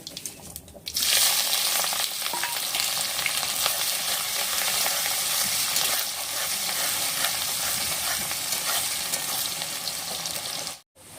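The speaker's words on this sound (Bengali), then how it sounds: "পেস্টটা আমি একটু নাড়াচাড়া করে বাদামি কালার করে নেব।" Raw paste sizzling loudly in hot oil after cumin tempering, stirred steadily for browning in a village-style chicken and potato curry, a dense continuous hiss that starts abruptly and cuts off near the end.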